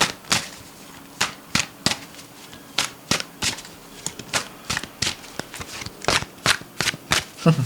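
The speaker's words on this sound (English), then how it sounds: "Let's pull a card for China, okay?" Tarot cards shuffled and pulled from the deck by hand, a string of sharp riffling flicks and slaps in an irregular rhythm, close and crisp, with no talking.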